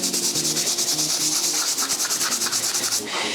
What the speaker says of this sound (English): I'm gonna take a stiff bristle brush, dip it in the solution, and get to scrubbing